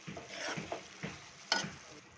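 Prawns frying in a pan for prawn thokku, stirred with a spoon in a few distinct scraping strokes over a soft sizzle, close and fairly quiet, with no talking.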